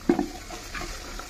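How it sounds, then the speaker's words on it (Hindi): A spoon stirs chopped green peas, French beans and carrots for Goan pulao in a pan, giving a short clatter and soft sizzle near the start, followed by quieter scraping and low frying noise. "हे सारकें फोंडां मिक्स कराय बरें"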